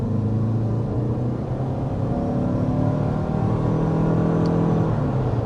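A 2024 Toyota RAV4 Hybrid accelerates with a steady, loud engine drone and layered rising hum heard from inside the cabin, continuous and unbroken throughout.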